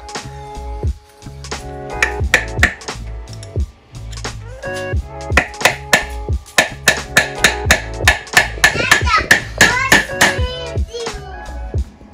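Metal rings under repeated hammer blows driving out a bolt, irregular at first and then a rapid series of sharp strikes, loud and close.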